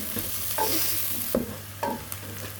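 Onions frying in oil until light brown for an aloo baingan sabzi give off a steady sizzle. A few distinct scrapes from stirring sound close by, and nobody speaks.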